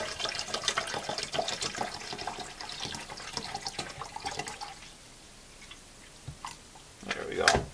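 Photographic stabilizer liquid poured into a film developing tank at home, a stretch of trickling, splashing pour followed by a quieter pause and a few sharp drips and clinks near the end.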